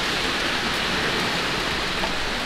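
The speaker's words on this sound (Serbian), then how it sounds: "Epic trčanje po kiši." Heavy rain pours down steadily during a storm, a dense, continuous hiss of water that stays loud and unbroken from start to finish, with no voices.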